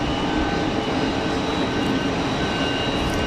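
An EasyJet Airbus A320 airliner departs Geneva Airport, its jet engines a steady, loud, broadband roar that holds constant throughout with no voices.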